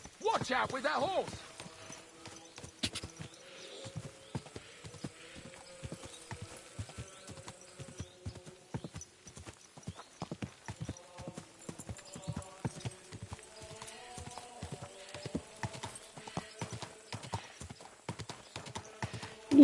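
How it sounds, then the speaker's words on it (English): Horse hooves clip-clop in a steady walking rhythm for a long stretch, crisp and fairly close, with faint background sounds. "Watch out with that horse!"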